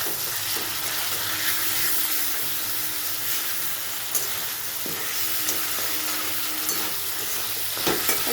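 Chicken curry with Kashmiri chili, cumin and black pepper sizzling steadily in a pan, with occasional soft scrapes and stirring knocks; continuous, close and moderately loud, no talking.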